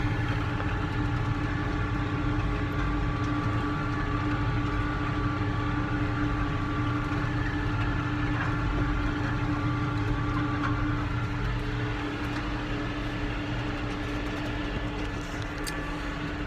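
A vehicle engine runs steadily at about 1800 RPM, a continuous close drone with a smooth tonal hum that never changes pace, and no voices.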